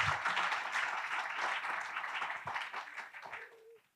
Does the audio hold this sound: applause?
yes